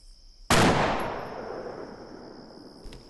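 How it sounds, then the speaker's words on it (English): A single loud weapon shot fired at a target in Half-Life 2, a sharp sudden blast that decays slowly into a long reverberant tail under a steady high-pitched game tone, with no one talking. "I will now fire at the next target."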